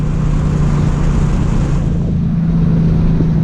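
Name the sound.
manual car accelerating after dropping the clutch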